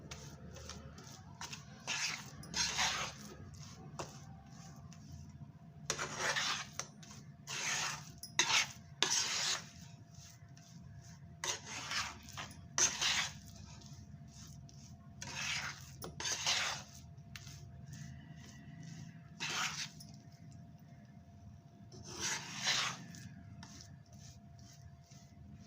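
Millet flour is stirred while it roasts in a pan over a low flame, making intermittent scraping bursts of a spatula against the pan over a soft background hum, close and moderately quiet.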